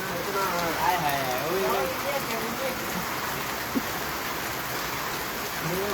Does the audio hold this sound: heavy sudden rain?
yes